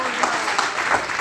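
A church congregation applauds during a sermon, a dense, steady clatter of many hands clapping at once, loud and close for about a second.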